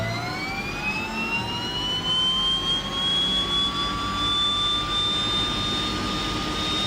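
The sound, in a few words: DHC-6 Twin Otter turboprop engine starting, Microsoft Flight Simulator video game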